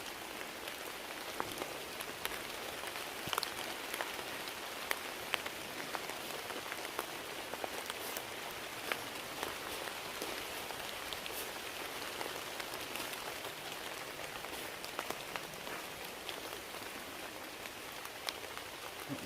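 Steady rain pattering on a Zephyros 1 tent during a woodland wild camp in a storm, a dense continuous hiss with scattered sharper drop taps throughout, no talking.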